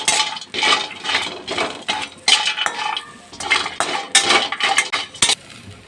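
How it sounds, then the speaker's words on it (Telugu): A cinnamon stick and a few cashews lightly frying in a pan while being stirred: repeated metallic scrapes and clinks of a spoon against the pan in an uneven rhythm, close and fairly loud, with no talking. "ఒక చిన్న ముక్క దాల్చిన చెక్క, కొద్దిగా ఒక 4 పీసులు కాజు, కాస్త లైట్గా వేయించాలి"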